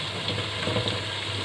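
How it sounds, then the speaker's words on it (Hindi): Half-boiled pumpkin's water pours from a pan into chicken curry as a steady, close rush and sizzle of liquid, continuous and fairly soft, with no talk. "साथ में इसका जो पानी था ना वो भी साथ में ही डाल दूँगी"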